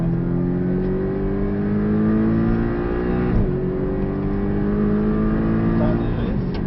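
A Porsche 718 at full throttle on the Portimão Autodromo International Algarve circuit, its engine note a loud, steady drone that climbs gradually in pitch with a brief dip midway as the car pulls hard.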